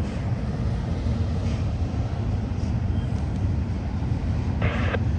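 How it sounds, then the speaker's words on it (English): A double-stack freight train climbs the steep Cajon Pass grade near the summit, overtaking a second train on the outside track: a steady, dense low rumble of engines and rolling stock at moderate distance, with a brief higher squeal near the end. "this train closest to us is definitely overtaking the outside train"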